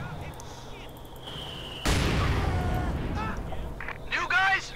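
A mortar barrage lands in Company of Heroes 2. A sudden heavy blast is followed by rumbling impacts that last a few seconds, with voices talking over the battle noise.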